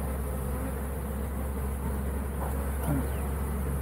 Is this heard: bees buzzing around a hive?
yes